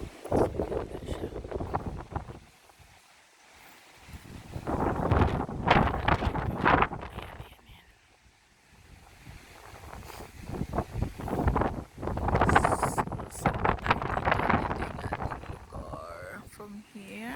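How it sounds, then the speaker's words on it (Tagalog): A strong, cold wind on Mount Dandenong buffets the microphone in heavy rumbling gusts that surge and ease over several seconds, with a voice speaking now and then between the roars. "Kasi malamig. Lakas ng hangin. Naririnig nyo naman."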